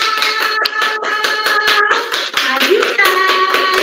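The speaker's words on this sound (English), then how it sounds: "Clap. Clap. Clap. Everybody clap." Children in an online preschool class clap along over a tonal, musical background, with sharp irregular claps scattered through the stretch and voices mixed in.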